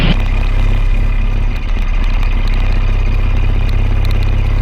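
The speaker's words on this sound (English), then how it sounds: "To rev my engine going through there for the fun of it." Motorcycle engine revving inside the narrow Needles Eye tunnel in the Black Hills during the Sturgis Motorcycle Rally, a loud, steady, close rumble with clattering mechanical texture filling the whole stretch.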